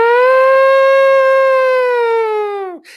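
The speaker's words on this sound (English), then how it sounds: "The bombeiros test their fire sirens, don't they?" A fire brigade siren in Portugal sounds a test at midday, a loud, steady mechanical wail that holds its pitch and then winds down sharply at the end, with no one talking over it.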